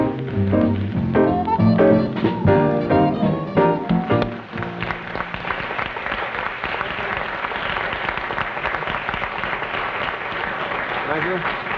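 A studio audience at a 1952 CBS Steve Allen broadcast breaks into sustained, loud applause, dense clapping running steadily for the whole stretch and starting over the end of a musical passage.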